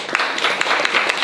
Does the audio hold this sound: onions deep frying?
no